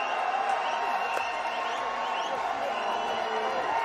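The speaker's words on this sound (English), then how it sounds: "Look at the crowd go." Crowd at Nairobi Gymkhana roaring after a first-ball six in a Kenya vs Nepal T20 cricket match, a steady broad cheer sustained throughout with talk faintly mixed in.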